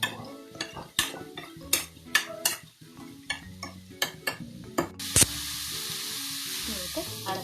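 Banana stem thoran stirred in a pan with curry leaves. A spoon knocks and scrapes against the pan in irregular clinks. Near the end, a sudden steady sizzle rises as the leaves hit the hot oil.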